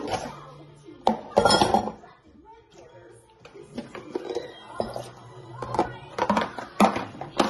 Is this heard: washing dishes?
yes